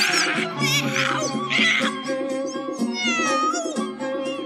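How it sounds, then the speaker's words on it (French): Cat meowing repeatedly over a tinkling musical backing in a children's storybook animation, bright drawn-out mews rising and falling at close range. "le capitaine apporta le chat de Dick Whittington"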